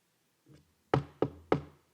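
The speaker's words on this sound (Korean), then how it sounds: "두드리시는 거예요." Someone knocks on a door three times in a sharp, evenly spaced sequence, close and clear, after one faint soft tap, during a Sunday church sermon.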